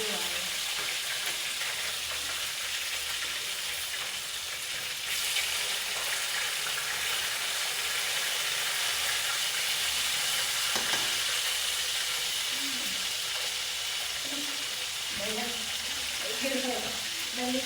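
Fish frying in a pan, a steady broadband sizzle throughout, with brief stirring or clattering sounds near the end and faint voices in the background.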